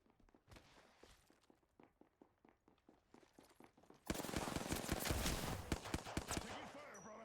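Gunfire in a video game begins as a steady run of distinct single shots. Partway through it swells into a loud, dense barrage of rapid automatic fire that continues to the end.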